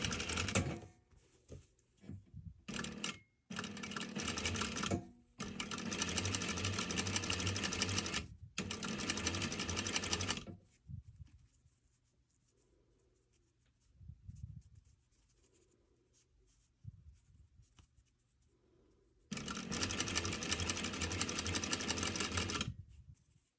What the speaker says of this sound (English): I'm just top stitching the edge of that folded piece